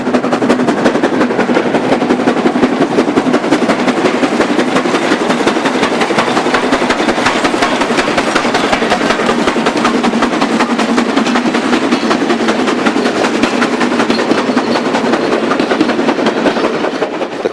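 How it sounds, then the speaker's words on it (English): A morning passenger train of 8 coaches climbs a grade with a banker locomotive pushing behind, giving a loud, dense, continuous roar of engine and wheel noise with rapid rhythmic exhaust beats. It stays close and steady throughout, with no talk. "this wonderful shot of the morning train 2 from Junli to Jaipei, formed of 8 coaches and requiring the use of a banker"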